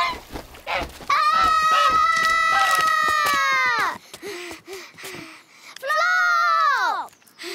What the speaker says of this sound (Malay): Bing, itu bukan itik. Itu angsa.